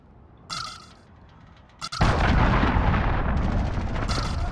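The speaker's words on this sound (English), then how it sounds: "cruise missile. Take cover." A cruise missile strike in Call of Duty: Modern Warfare: a brief burst, then a massive booming explosion that roars on loudly and continuously with heavy low rumble.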